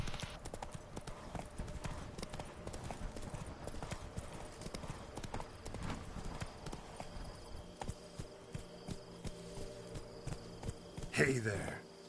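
In The Witcher 3, the horse Roach trots with rapid, steady clip-clop hoofbeats throughout, close and even, under game music and a man's intermittent speech.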